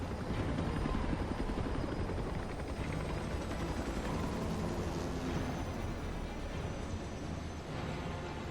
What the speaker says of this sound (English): Oh, I hear a chopper outside.